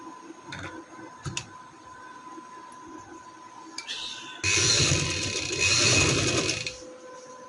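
A sewing machine stitches along a strip on a summer trouser, starting with a few light ticks and clicks, then breaking into a loud, continuous close whir for a few seconds.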